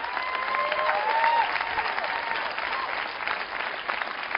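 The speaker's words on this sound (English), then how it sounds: "Why are they clapping about the numbers?" Church congregation applauding during a service, a steady, dense wash of clapping that holds at even loudness throughout, with faint crowd murmur and no clear speech on top.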